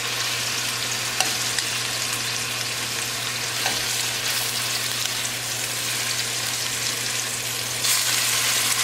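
Lamb chops fry in a hot pan with a continuous, dense sizzle and faint crackles, steady and close with no voices.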